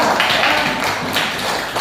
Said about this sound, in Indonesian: Kita berikan tepuk tangan dulu kepada Safira.